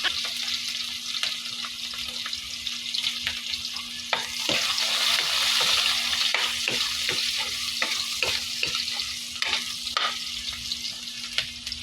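Garlic and onion sizzle as they sauté in a hot pan, frying steadily while a utensil scrapes and stirs in sharp irregular clicks, with no talking.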